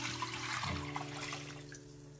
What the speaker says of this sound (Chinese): 再加入清水